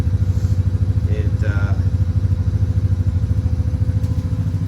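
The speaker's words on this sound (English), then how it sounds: "Harley Sportster XLC H1000. I love this bike." A kickstart-only Harley Sportster XLC H1000 motorcycle with an S&S shorty carburetor idles nearby, with a loud, steady, lumpy rhythmic thumping throughout and brief faint speech over it.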